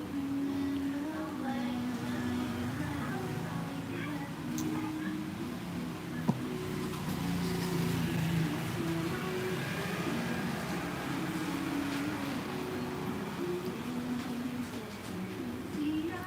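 Road traffic rumbles steadily near a riverside park in Bangkok by the Chao Phraya River, a low continuous drone of passing vehicles with faint distant voices and a brief knock.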